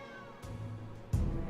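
A cat meowing in the video game Pathfinder: Kingmaker, two short, quiet meows in quick succession over soft background music.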